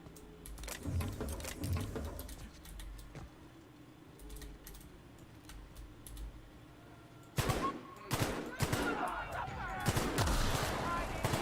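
Rapid bursts of gunfire from a weapon in the video game The Outer Worlds, a sharp volley early on then a louder, denser stretch of repeated shots near the end, with a voice speaking between them.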